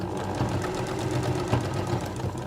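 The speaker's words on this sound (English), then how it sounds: "and sew right to the end" A sewing machine runs steadily while stitching quilt binding to the end of a seam, with an even, rapid needle rhythm over a low motor hum, close and continuous throughout.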